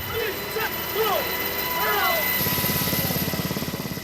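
A military helicopter slows while flying at 4,000 feet during a precision parachute training exercise, its loud rotor beating and engine whine heard from inside, while a voice speaks over it before the rhythmic blade thumping dominates.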